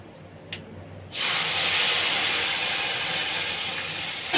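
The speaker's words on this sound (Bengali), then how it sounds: "আর এই যে এখন দিয়ে দেবো এই যে সর্ষেটা, তেলের মধ্যেই দিয়ে দেবো।" Mustard seeds hit hot oil with a sudden loud burst of sizzling. A steady close hiss follows and fades only slightly over a few seconds, with no talking over it.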